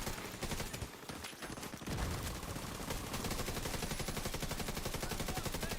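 Video game gunfire against enemy heavies, rapid machine-gun bursts building into a fast, steady automatic rattle, loud and close and continuing through the end with no talk.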